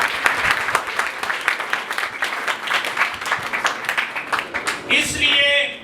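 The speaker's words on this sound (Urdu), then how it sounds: "آئے ایسے خدا کے لیے زوردار تالیاں" A church congregation claps loudly for several seconds, a crowded burst of applause that gives way to a voice speaking at the end.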